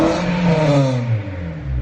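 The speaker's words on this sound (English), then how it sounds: "Exhaust sounds nasty, doesn't it?" Honda Civic Type R engine revving hard through a harsh, raspy exhaust, a loud close rise and fall in pitch over about two seconds with no talking.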